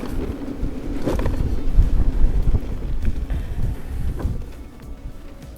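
Headwind buffeting the microphone while riding a Maxxter electric scooter outdoors, a steady loud rumble of wind noise with gusty swells throughout and no talking.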